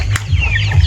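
Farm chickens, ducks and fowl clucking close by, a loud run of short throaty clucks and squawks over a low rumbling background, with one sharp click near the start.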